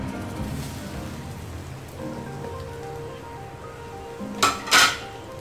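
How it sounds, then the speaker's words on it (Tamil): Grated coconut being sautéed in a pan for a South Indian lunch: a low steady sizzle with background music runs under the whole stretch, then near its end come two loud, brief metallic scrapes of a utensil against the pan. "தேங்காய் துருவல் சேர்த்து நல்லா வதக்கிக்கிறேன்"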